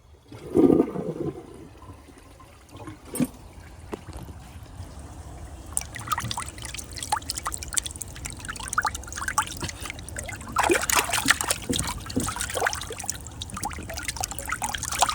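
A 2017 Glacier Bay high-efficiency toilet flushes close by, with a brief thump at the start, then a rushing swirl of water that goes on and gurgles, trickling and surging again until the end.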